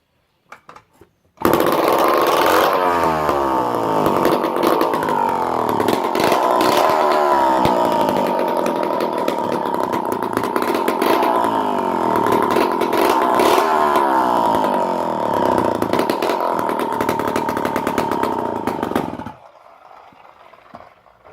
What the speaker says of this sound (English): Next I'll start the Homelite C51.